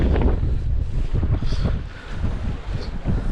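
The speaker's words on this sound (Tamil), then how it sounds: "கடற்கரை ஆந்திர பகுதிகளில் சரியான காற்று அடிச்சு கொண்டு தான் இருக்கு" Strong storm wind gusts buffet the microphone at a Jaffna seashore during a cyclone, a loud continuous roar with low rumbling surges and faint surf underneath, no speech.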